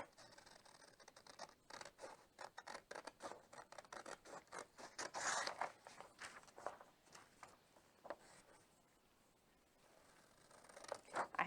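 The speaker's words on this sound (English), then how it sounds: "how do I cut out the holes? I just use scissors." Scissors snip repeatedly at close range, quiet crisp cuts in uneven bursts with a pause near the end before more snipping.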